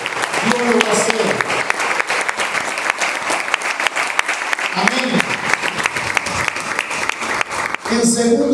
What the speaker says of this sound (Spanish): Un fuerte aplauso a esta palabra.